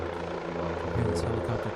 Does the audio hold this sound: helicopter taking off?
yes